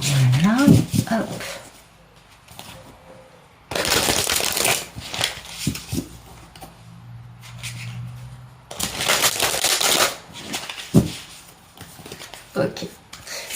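Tarot cards are shuffled for a card reading in two loud, close bursts of riffling and sliding, with someone talking quietly between them.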